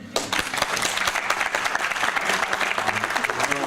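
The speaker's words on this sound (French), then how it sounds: "Donc Jean Combier, on peut l'applaudir." Audience applause at the opening ceremony of the Fantasy Film Festival in Paris, 2023: dense, loud, continuous clapping that begins abruptly and fills the room, with some crowd voices mixed in.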